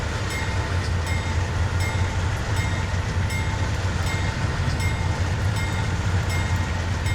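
A heavy locomotive engine in Train Simulator 2019 drones steadily in throttle notch 8, hauling a grain train on Marias Pass, its deep rumble constant and loud, with faint rhythmic clicks of wheels on rails.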